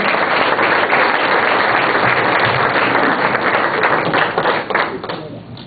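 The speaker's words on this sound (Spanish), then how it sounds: "un aplauso para ellas." A crowd applauds steadily, a dense wash of clapping that holds for several seconds before fading at the end.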